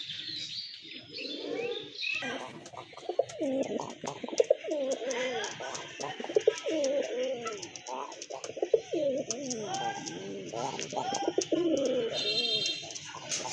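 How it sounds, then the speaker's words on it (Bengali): Pigeons cooing at a fancy pigeon seller's collection, soft repeated coos with occasional chirps from several birds close by, continuing through the whole stretch with some background voices. "আরেক জোড়া কবুতর"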